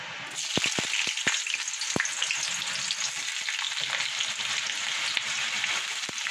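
Ridge gourd and potato hit hot oil seasoned with nigella seeds, setting off a loud, steady sizzle with sharp crackles and scraping stirs throughout, close and without talk.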